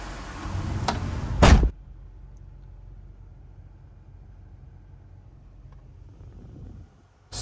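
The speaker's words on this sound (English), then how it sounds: "Shut this door." A loud, sharp thud around a second and a half in as the door of a 1995 Acura Integra GSR slams shut, followed by a quiet interior hum.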